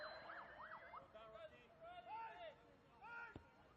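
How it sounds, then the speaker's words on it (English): An ambulance siren passes by a men's premier league football match at Marayong, its wailing tone rising and falling at middle distance. A commentator talks over it, and a sharp knock is heard near the end. "for Enchi as an ambulance goes past."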